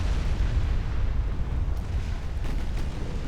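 A warship blows up after a torpedo hit in a naval strategy video game, a heavy rolling explosion rumble with crackling bursts sustained over a few seconds.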